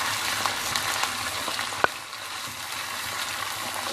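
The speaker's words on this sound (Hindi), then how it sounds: "चिकन को अच्छी तरीके से भूनना है" Chicken frying in oil, giving a steady close crackling sizzle with a single sharp clink partway through, and no talking.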